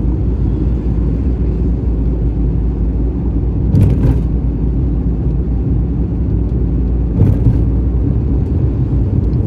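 A car cruises in third gear on the approach to a bridge, giving a loud, steady low engine drone and road rumble from inside the cabin, broken by two brief bumps.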